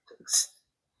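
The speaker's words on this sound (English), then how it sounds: "My cat just had a sneeze." A single small, sharp sneeze from a cat, preceded by a quick intake of breath, close and brief.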